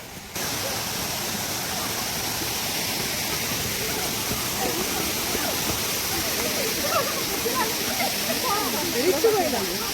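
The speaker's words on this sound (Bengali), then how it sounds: "আমাদের সেই ঝর্ণা বড় ঘাগড়া।" Bara Ghagra waterfall tumbling down in steps, a steady broadband rush of water filling the whole stretch, with brief murmurs of nearby voices under the roar.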